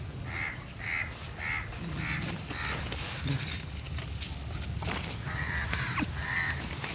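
Crows cawing at an outdoor feeding spot in the rain season, with repeated harsh caws in loose bursts from several birds over a steady background.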